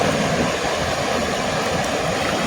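Steady broadband rush of a river's flowing water, continuous and fairly loud with no pauses or voices.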